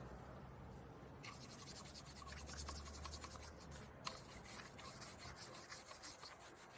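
Scrubbing with a plastic brush during a Suzuki Samurai restoration, giving a continuous soft rubbing and rasping scrape over several seconds, close but quiet, with no speech.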